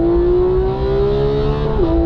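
A Porsche 911 GT3 or Bentley Continental GT engine revs hard under full acceleration in a drag race, one strong rising tone climbing steadily before a brief dip at a gear change, then pulling on, loud and close.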